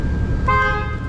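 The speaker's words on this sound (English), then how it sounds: "Horn works." A single short honk from the horn of a 1995 right-hand-drive Jeep Cherokee, a bright, steady tone lasting about a third of a second over a low background rumble, heard up close.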